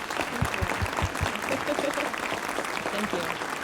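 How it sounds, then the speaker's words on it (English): An audience at a community justice summit applauds staffers, a steady wash of clapping with scattered voices and a few close claps underneath. "Would they please stand up so we can applaud you too?"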